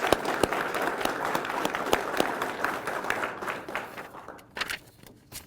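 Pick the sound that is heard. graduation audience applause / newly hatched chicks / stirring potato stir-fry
graduation audience applause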